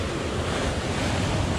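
Rushing river water surges through the narrow gorge of the Strid, a loud, dense, unbroken roar close by with wind buffeting the microphone and no voices.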